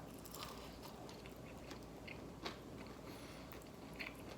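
Crunchy, buttery lemon pepper chicken wings are bitten and chewed close to the mic, giving soft repeated crunches and wet mastication, with a few sharper bites standing out.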